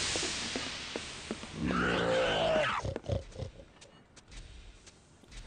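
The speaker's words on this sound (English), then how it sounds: "Were those pigs?" Pigs grunting in the video game Shadow Man: a rough burst of low, throaty grunts lasting about a second, mid-loud, followed by scattered thuds and clicks of game ambience.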